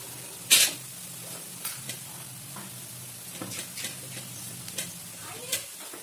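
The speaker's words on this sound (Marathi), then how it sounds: "आता याला चांगलं मिक्स करून घ्यायचं." Poha is stirred in a pan with salt, sugar and coriander. A spoon scrapes and clinks against the pan in sharp, irregular strokes over a faint steady sizzle, close and fairly quiet.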